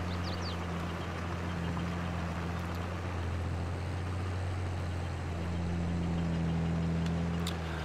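A tractor engine in Farming Simulator 22 runs at a steady, close, low diesel rumble with a constant hum throughout and no talking.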